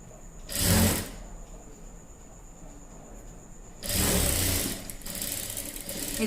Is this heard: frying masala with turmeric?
no